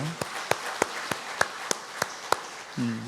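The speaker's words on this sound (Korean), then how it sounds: "우리 이들 다 모두에게 박수 한번 보내주실까요?" Steady rhythmic clapping at a Korean Sunday worship service in honour of church workers, about nine crisp claps at an even pace, with a brief voice at the end.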